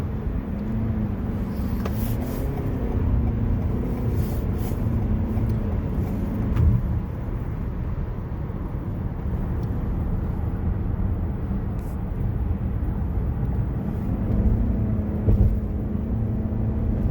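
A Toyota Highlander on Michelin CrossClimate 2 tires accelerating onto a highway, heard from inside as a steady, loud low engine and road rumble that holds constant throughout, with faint brief ticks and no talk.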